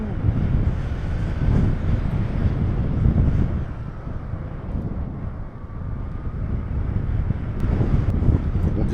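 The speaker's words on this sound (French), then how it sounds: "On dirait pas mais ça souffle" Wind rushes steadily past during a paragliding flight in a 9 km/h southeast breeze, a low continuous roar that swells and eases, with no voices.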